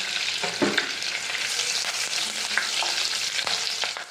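Green chillies, curry leaves and bay leaves hit hot oil for shev bhaji, giving a loud, continuous sizzle scattered with crackles and pops, close by and without talk.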